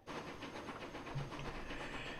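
A train runs along its track in Transport Fever 2, giving a steady, fairly faint rumble with a soft rhythmic clatter and hiss and no talk.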